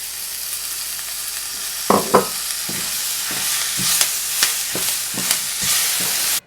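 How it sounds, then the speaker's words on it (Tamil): Curry leaves frying on a slow flame for a curry leaf thokku, a steady oil sizzle with crackling pops and occasional stirring scrapes, close and loud, with no voices. "ஸ்லோ ஃப்ளேம்லேயே வச்சுட்டு பண்ணுங்கள் இது போட்டு ஒரு நிமிஷம் நல்லா நம்ம ஃப்ரை பண்ணணும் அதுக்கப்புறம் நம்ம அந்த கருவேப்பிலை போட்டுடலாம்"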